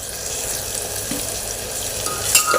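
A homemade onion-garlic masala roasts in a pan, sizzling steadily close up while being stirred, with a couple of brief clinks near the end.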